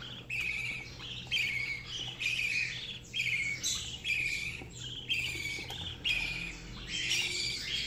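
A budgerigar chick squawks insistently during hand-feeding, harsh rasping calls repeating in a steady rhythm roughly twice a second, loud and close.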